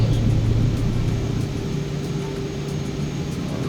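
Aircraft engine roar during takeoff in Microsoft Flight Simulator 2024, a loud, steady broadband rumble with a low drone that eases slightly as the plane lifts off.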